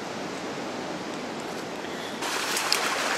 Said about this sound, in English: is the noise of running water